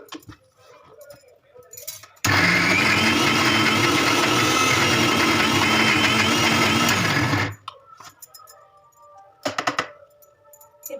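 Mixer grinder grinding batter in a home kitchen, one loud continuous motor whine lasting about five seconds, with soft handling noises and clatter before and after.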